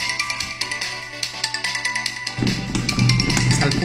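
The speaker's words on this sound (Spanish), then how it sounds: "Cuando le suena el teléfono a la profesora" A mobile phone's ringtone plays in a classroom, a loud repeating musical melody that continues throughout, with a deeper, busier bass-heavy section entering partway through.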